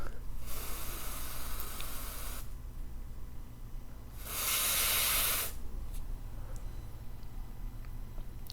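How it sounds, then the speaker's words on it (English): Freeze spray hissed onto a chip in a lightning-struck plasma TV with HDMI faults: two separate bursts of loud, broad hiss, each about two seconds long, with a steady low hum between them. "I wonder now if I hit it with the freeze spray"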